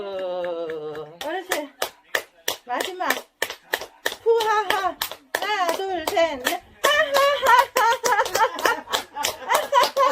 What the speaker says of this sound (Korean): 주먹 박수.